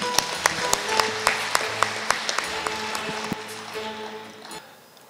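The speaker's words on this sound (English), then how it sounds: "A grand round of applause, please." An audience at an inauguration and blessing program at Father Muller Institution in Mangaluru gives a round of applause: scattered, distinct claps with some ringing tones, moderately close, tapering off and fading at the end.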